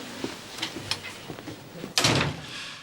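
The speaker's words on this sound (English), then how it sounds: "Close the door." An office door swings shut with a firm thud near the end, preceded by quiet footsteps and small room movements.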